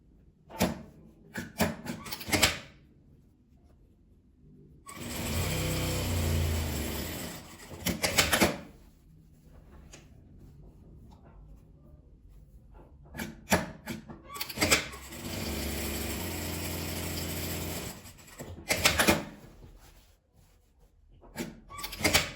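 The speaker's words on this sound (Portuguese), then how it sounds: "Aqui vamos costurar." Two pieces of fabric stitched together on a sewing machine: two sustained bursts of motor whirr and rapid needle clatter, each several seconds long, separated by quieter handling clicks and shuffling, close and fairly loud.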